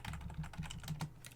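Rapid keystrokes on a computer keyboard while configuring a Cisco ASA interface, a quick irregular run of close clicks with no talk.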